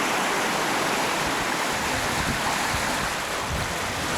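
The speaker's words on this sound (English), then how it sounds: "Here we are sailing with about a 8 to 10 foot following sea." Sailboat running under mainsail alone across the Atlantic at about 7 knots in an 8 to 10 foot following sea, with an east wind of 15 knots: steady, loud broadband rush of water and wind, continuous without letup.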